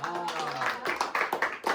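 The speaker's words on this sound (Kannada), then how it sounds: "ಹೊಡೀರಿ ಒಂದು ಜೋರಾದ ಚಪ್ಪಾಳೆ" A family at a Christmas Secret Santa game clapping, a short burst of quick hand claps close by that follows a voice and builds toward the end.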